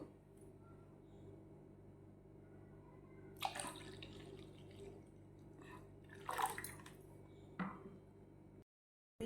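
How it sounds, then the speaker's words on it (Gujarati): Water splashes and pours into a bowl in three short bursts, about two glasses in all, over a quiet background hum, close by and moderately loud, with pauses between the pours. "અને તેમાં બે ગ્લાસ જેટલું પાણી ઉમેરી દઈશું"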